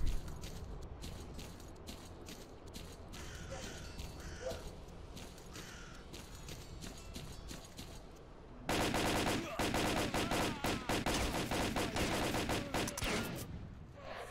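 Gunfire in the shooter S.T.A.L.K.E.R. Clear Sky, played on Master difficulty: a dense, steady run of shots through the whole span, growing louder and more rapid in the last third like an automatic weapon at close range.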